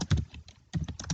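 Keystrokes on a computer keyboard as a MySQL command is typed, two short bursts of close, crisp clicking separated by a brief pause.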